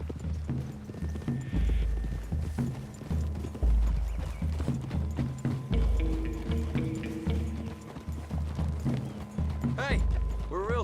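Horses clip-clop steadily through trees in Red Dead Redemption 2, their hooves beating in a close, continuous rhythm with mechanical tack noise and a brief whinny near the end.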